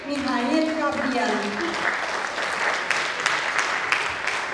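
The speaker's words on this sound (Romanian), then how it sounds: "Aplauze pentru Ilie Mihail Gabriel." Audience applause at a patriotic concert honoring a guest, a dense, steady wash of clapping that fills the hall throughout, with a voice briefly heard at the start.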